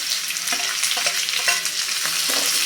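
Chopped onion, green chillies and garlic sauté in a pan with a bright, loud, constant sizzle, punctuated by regular scraping strokes of a spatula roughly every half second, heard up close with no voices.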